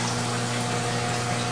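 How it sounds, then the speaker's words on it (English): A barrel aquaponics pump pushes water up a tube, giving a steady mechanical hum with a constant trickle and gush of flowing water, close and continuous. "this pump sends the water up this tube here"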